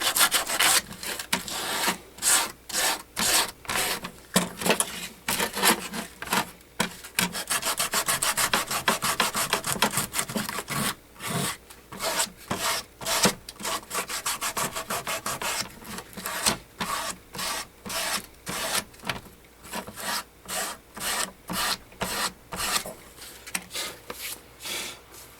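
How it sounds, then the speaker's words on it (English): Edge tool shaving a bevel along the edge of a leather knife sheath, a series of close, rhythmic scraping strokes with short pauses between passes, steady and fairly loud with no talking. "I'll take it, this little edge tool right here, and I'll bevel the edge on it before I slick it"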